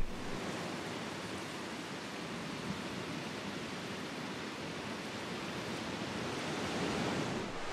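Ocean surf rolling onto a beach beneath a tall cliff face: a continuous broad roar of breaking water with some wind noise, steady and fairly loud, with no voices.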